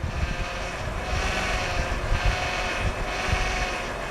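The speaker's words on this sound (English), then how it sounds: "it's still going to make a little noise while the air in the system works its way out" Power steering pump on a Honda Odyssey, with air trapped in the system, whines and hums steadily under a broad engine rush, pulsing slightly as the steering is cycled.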